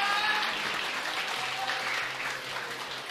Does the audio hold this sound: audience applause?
yes